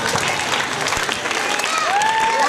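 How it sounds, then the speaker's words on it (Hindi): Audience at a school annual celebration applauds children's performance, a steady dense clapping wash with a brief tonal whistle or voice rising late, crowd murmur underneath. "सो प्लीज इन बच्चों की परफॉर्मेंस के लिए और एक बार तालियां हो जाए।"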